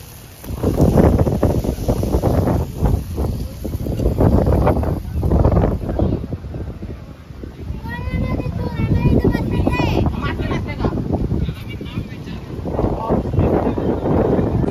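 Strong gusts on Arnala beach roar as broadband wind buffeting across the microphone, loud and continuous for the whole stretch, with people talking over it.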